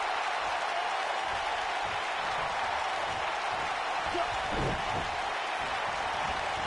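Crowd cheering in the wrestling video game WWE 2K19, a steady roar of arena noise with a brief swell near the end, moderately loud and continuous.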